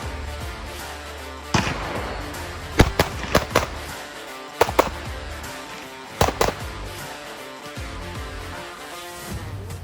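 Glock 19 Gen 5 pistol fired in a timed shooting drill: sharp, loud shots in quick clusters of two or three, separated by short pauses over a steady outdoor background.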